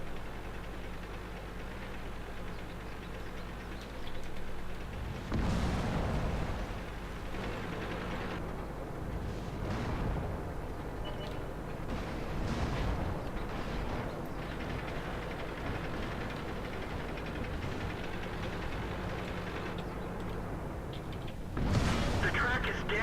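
A tank in World of Tanks takes incoming fire, with a few heavy booming impacts over a constant low engine rumble.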